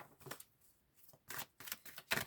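Tarot cards are shuffled in quick bursts, several short papery riffles and slaps separated by brief pauses, close and fairly quiet.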